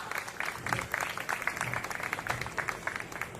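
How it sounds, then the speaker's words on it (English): Applause from the audience at the Little Flower Group of Institutions Educational Conclave 2025 for the first participant of Team A Thinkers Tank; scattered, fairly quiet clapping with individual claps standing out, murmuring voices mixed in. "Could you all please give a very big applause for ma'am?"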